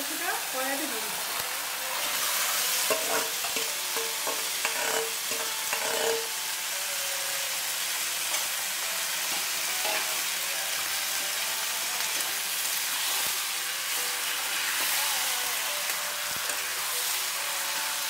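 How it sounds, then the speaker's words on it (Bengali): Coriander chicken with spices and a little sour ingredient frying in a wok, a continuous oily sizzle with occasional stirring scrapes, fairly close and steady throughout. "আস্তে আস্তে মশলা আমি কষিয়ে দেবো যতক্ষণ সেদ্ধ হচ্ছে।"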